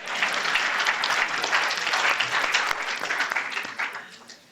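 Audience applause fills a conference session on luxury and fashion, a dense, steady wash of clapping from a crowd that carries on throughout before tapering off near the end.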